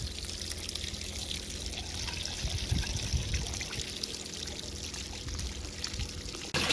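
Steady tap water pours and trickles into an aquaponics system in far North Queensland, a continuous splashing stream running evenly for several seconds with no talk.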